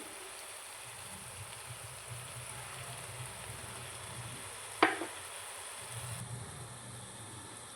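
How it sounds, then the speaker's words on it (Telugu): A thick masala paste sizzles and is stirred in a pan while cooking a canteen-style drumstick masala curry, a steady low frying hiss with one sharp clatter midway and soft scraping toward the end. "ఇప్పుడు మనం ముందుగా ప్రిపేర్ చేసుకున్న పేస్ట్ అయితే వేసుకుందామండి మసాలా పేస్ట్ వేసుకుంటున్నాను"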